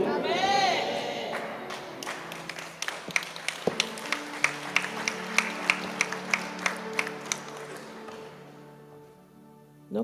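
Church congregation applauds in a steady run of sharp, fairly even claps mixed with murmuring voices and a brief cry at the start, the clapping fading toward the end.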